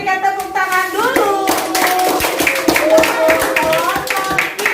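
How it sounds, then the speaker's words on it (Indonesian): Loud, close classroom clapping as students applaud a group, quickly settling into a brisk, even rhythm, with children's voices heard over the start. "kita berikan tepuk tangan dulu"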